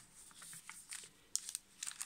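Paper ruffle from a vintage sewing-themed junk journal being handled, giving faint crinkling and rustling in soft, irregular bursts that sharpen into a few crisper crackles near the end.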